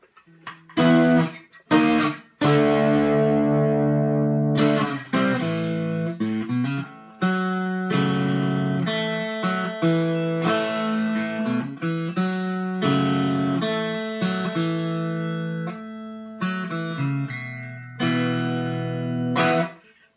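A small, thin-bodied ANZAC tin electric guitar played with heavy distortion, picking single notes and short phrases with gritty sustain and brief pauses between them.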